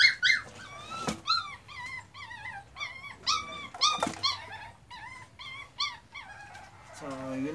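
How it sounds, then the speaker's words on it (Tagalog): A dog yelping and whining in rapid, excited bursts, close by and fairly loud, with a low growly undertone between the cries. "Ang ingay ng aso namin"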